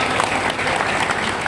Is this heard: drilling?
no